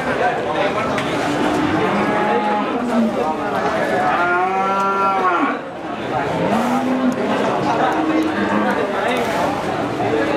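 Cattle low and moo repeatedly at a busy village livestock market, with jumbo-sized cows nearby and loud, drawn-out calls rising over a steady crowd murmur and voices talking.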